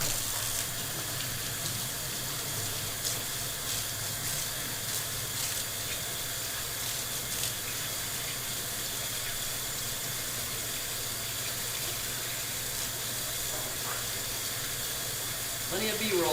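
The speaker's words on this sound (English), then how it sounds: "I'm definitely washing my hands now." Tap water runs steadily into a kitchen sink while hands are washed, a constant close hiss and splash lasting throughout with a small bump of movement near the end.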